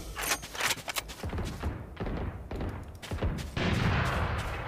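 Gunfire in the video game Valorant, a rapid burst of shots followed by scattered single cracks and thuds, loud and close, ending in a dense rumble of continued fire.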